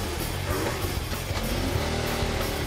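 4WD vehicle spinning its wheels in a tyre obstacle section: a loud, sustained engine roar with churning revs and tyre noise, close and continuous throughout.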